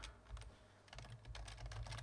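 Computer keyboard typing, a quick run of close, crisp key clicks with a short pause near the start, then a denser burst of keystrokes over steady low background hum.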